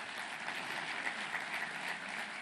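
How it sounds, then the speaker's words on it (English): A speech audience applauds steadily for Doherty, dense clapping that fills the room evenly from start to finish, without talk over it. "Give her a round of applause"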